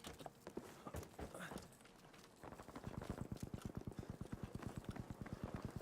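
Rapid, steady footsteps running in the video game Battlefield V, close and rhythmic, following a stretch of busier game noise and faint background clatter.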